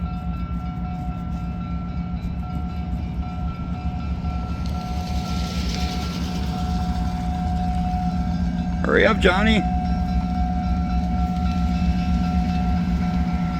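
A freight train with many cars rolls past a road crossing, a steady low rumble of wheels on rail filling the whole stretch, joined by a brief squealing tone midway, while someone talks over it.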